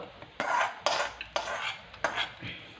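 A spoon scrapes and clatters through Onam-style pachadi with green chilies in a pan, four distinct stirring strokes, close and fairly loud, each a brief metallic scrape against the pan with quieter shuffling between.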